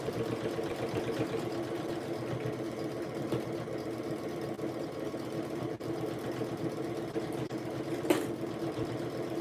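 A sewing machine hums and rattles steadily while back stitching fabric, a continuous mechanical whir with a few sharp clicks near the end and no talking.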